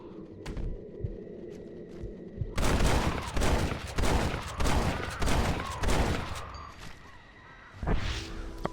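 Rapid bursts of gunfire from the Red Dead Redemption video game, a quiet stretch giving way to a loud volley of repeated shots and clattering, then a short lull before more firing near the end.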